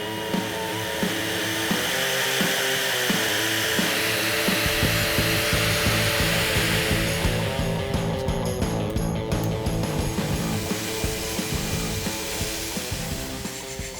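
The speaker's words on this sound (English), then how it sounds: "it's time that we cut all of the old mounting brackets that we don't need anymore." An angle grinder cuts and grinds old mounting brackets off a dirt bike frame, a continuous loud harsh whine with rough scraping and shifting pitch as the disc bites into the metal tabs.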